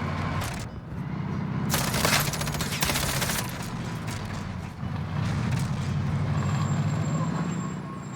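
Machine gun fire in a battlefield video game, a dense sustained rattle of automatic bursts over rumbling vehicle engine noise, with no voices.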